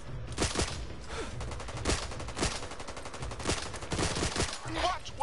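Dense, rapid gunfire from the Back 4 Blood co-op shooter during a boat explosion escape, repeated sharp shots and bursts rattling continuously through the whole stretch with no voices.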